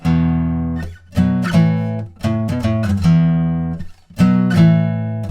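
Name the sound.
electric guitar power chords, song chorus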